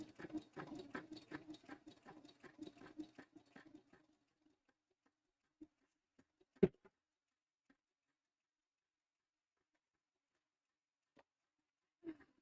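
An embroidery machine stitches costume fabric with a quick, quiet ticking patter that runs for a few seconds, then stops, leaving near silence broken by a few isolated clicks and taps.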